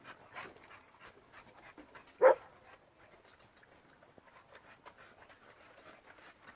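Several bully breed dogs play loose outdoors on a hot evening during a backyard cookout, with soft panting and scuffling throughout and one brief louder yelp or bark near the middle, no talk.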